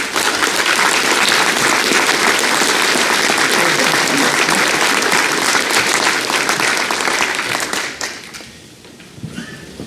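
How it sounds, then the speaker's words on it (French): An audience at a town mayor's New Year greetings ceremony in Bernay applauds with loud, sustained, dense clapping that tapers off near the end, leaving a few scattered claps. "Cela mérite vos applaudissements."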